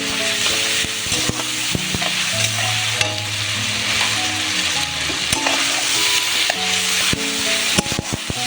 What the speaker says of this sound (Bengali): আর দিয়ে দেব কাঁচা লঙ্কা কুচি দিয়ে ভালো করে আবার মশলাটাকে কষে নেব